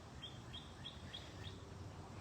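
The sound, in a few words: birds singing outdoors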